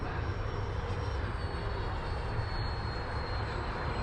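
Steady, loud broadband roar of an L-39 jet aircraft engine during landing practice, a continuous close drone with no breaks or talking.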